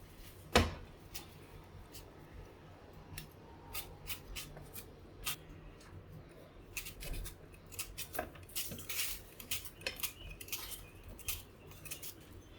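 A knife cuts an onion on a board for bitter gourd curry, irregular crisp taps and chops close by, quiet between strikes, with no talking.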